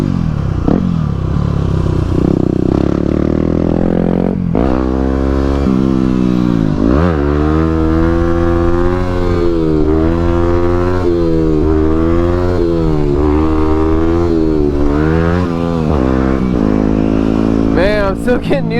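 Motorcycle engine running and revving loudly during a ride through a city at a protest, with rising and falling pitch and continuous close mechanical drone throughout.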